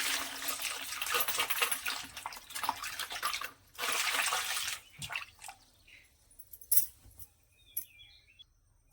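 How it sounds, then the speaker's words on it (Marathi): Water pours into a bowl of sliced potatoes in two loud splashing bursts, followed by quieter drips and small trickles close by, with no talking. "आता यामध्ये ना पाणी घालून घेते"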